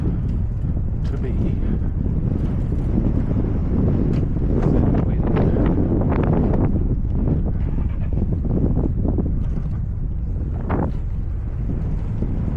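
Strong wind buffets the microphone during a boat ride home, a steady broadband roar with low rumble and water-vehicle noise throughout, loud and continuous for the whole stretch.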